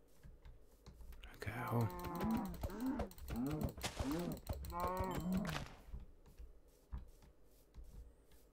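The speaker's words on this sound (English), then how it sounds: "A cow." A Minecraft cow lets out several low, drawn-out moos in quick succession, rising and falling in pitch over a few seconds, with soft keyboard clicking before and after.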